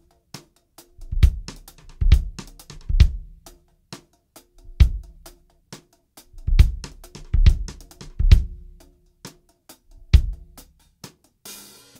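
Drum fill played with the stick turned sideways: a run of crisp, close strokes and low thumps in uneven bursts over about twelve seconds, with no talking.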